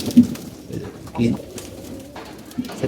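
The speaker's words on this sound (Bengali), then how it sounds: "এদিকে আমাদের কিছু কবুতরে ছাড়া ছিল আগে থেকে ছেড়ে দিয়েছিলাম" Pigeons coo in low, soft bursts, three separate calls spread across a few seconds, fairly close, with faint background noise between them.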